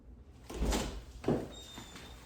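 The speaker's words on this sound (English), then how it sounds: "now I'm pulling the door to have some pressure on it" A door pulled open during a close-quarter battle breach drill, two dull thuds and scrapes about a second apart, moderately loud and close with no talk.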